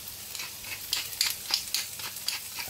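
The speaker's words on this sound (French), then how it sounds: "on va y faire revenir notre courgette" Zucchini sautéing in hot oil in a pan, a soft sizzle with brief stirring scrapes and clicks at a steady close distance, with no talking.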